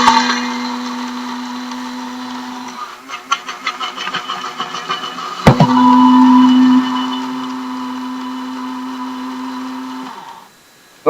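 Electric coffee grinder whirring loudly as it grinds a seasoning blend for fried chicken, a steady high motor whine that stutters midway, restarts with a clack, then runs on and cuts off.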